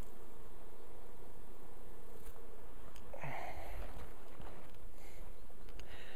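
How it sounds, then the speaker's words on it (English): Bees hum in a continuous, close drone during a beehive inspection, with light rustling and handling sounds around the hive. "there's bees crawling on me everywhere"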